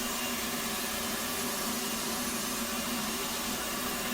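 Right engine of an F/A-18C Hornet spooling up in the DCS flight simulator as the accessory drive turns the fan, a steady broadband whine and rumble with constant hum, continuous and unbroken with no talking.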